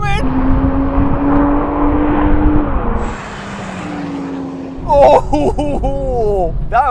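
A Toyota Supra Mark IV twin-turbo on a drag strip gives a loud, droning engine whine that fades away, followed by lively voices and laughter.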